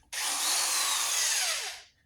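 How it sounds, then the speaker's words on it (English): An electric drill whirs loudly as it spins the flywheel of a 1947 Whizzer H engine, a single sustained high-pitched run that starts abruptly and winds down at the end, with no voices. "a nice electric drill, which, since the flywheel's reverse thread, you can actually do that and it won't just loosen the bolt"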